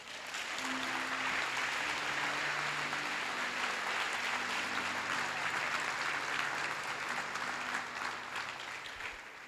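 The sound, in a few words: congregation applauding in church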